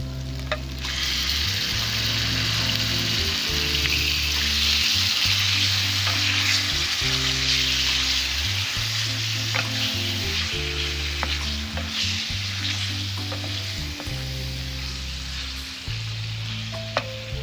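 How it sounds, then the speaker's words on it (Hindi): Steady loud sizzling of chicken frying in hot oil, with occasional scraping and clinking of a utensil stirring the pan, close up and continuous throughout. "चिकन फ्राई कर रही हूँ।"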